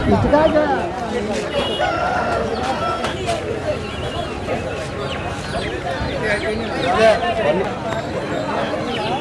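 Country chickens at a village market in Vijayanagaram district, with roosters crowing and hens clucking amid a crowded, noisy din of people talking and haggling nearby.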